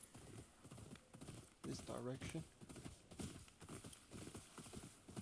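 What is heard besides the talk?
horse galloping and neighing, Ghost of Yotei video game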